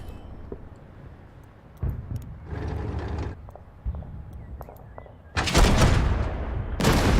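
Tank guns fire in the Total Tank Generals video game, with a few dull thumps followed by two loud, close blasts of rushing, crackling noise toward the end over a low rumbling background.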